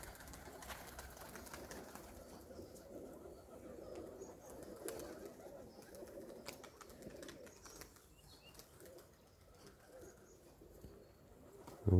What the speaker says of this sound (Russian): Какие-то вот слышно там, может, один-два голубя сыграло